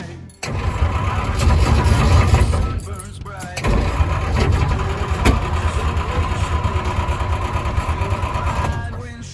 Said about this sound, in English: I put some fuel down the carburetor. We'll see if it fires off.